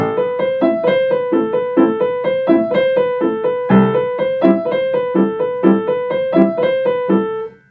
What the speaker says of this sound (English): a grace note technically would sound like this